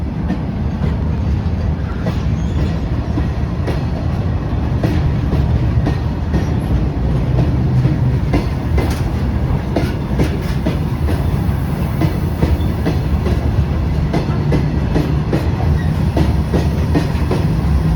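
A passenger train on the Secunderabad to Danapur route runs along the tracks, a loud, continuous rumble heard from on board with rhythmic wheel clatter throughout.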